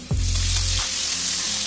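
Potatoes and kohlrabi fry in hot oil in a pan for a traditional Bengali dish, a loud, steady, close sizzle with a low thud and bubbling at the start.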